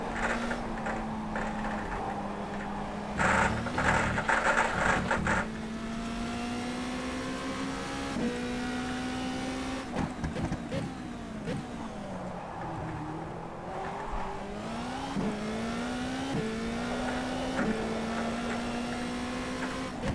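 Formula 2 race car in the rFactor 2 racing game at a Malaysian track, its engine whining steadily and shifting pitch with gear changes and revs over a continuous close drone, no voices.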